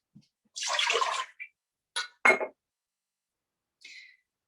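Water poured from a cup into a pot of plant-based chili for chili dogs: a close splashing pour of about a second, then a few brief splashes and clinks, in a quiet kitchen.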